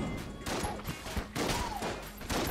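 An AK rifle fires in the video game Enter the Gungeon, rapid overlapping bursts of shots in quick succession, dense and punchy across the whole moment.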